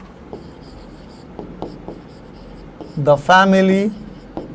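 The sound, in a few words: writing by hand during a lesson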